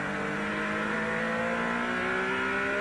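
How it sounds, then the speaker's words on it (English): A race car at the 1991 Toyota Grand Prix of Palm Beach, whose driver is struggling with a gearbox problem, revs its engine in a steady rising drone, loud and sustained with no clear gear changes. "Sounds like he's having trouble with his gearbox, isn't it?"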